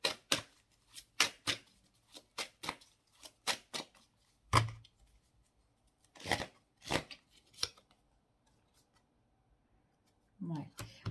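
Tarot cards shuffled by hand in a series of crisp, riffling bursts at close range, pausing briefly between rounds, with a soft voice speaking now and then.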